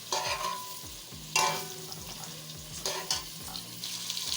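Carrots and green beans frying in hot oil, a steady crackling sizzle with repeated stirring scrapes and bursts of spatter, close up and with no voices.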